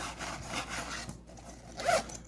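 A zipper being pulled on a pocket of an LED backpack, giving quiet, close scratchy rasping with a short, brighter zip stroke near the end, over a soft background hiss and with no talking.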